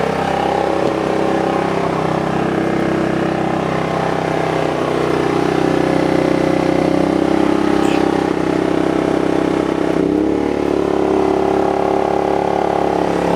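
A Sportsman GEN3500i inverter generator runs steadily under a 1500 watt load on a cold start, a loud continuous mid-pitched engine drone with no talking.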